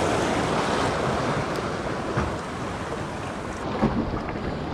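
Waves break and wash over rocks at a rock-fishing spot, a loud steady roaring surf with gusty wind noise and a few heavier surges, with no voices.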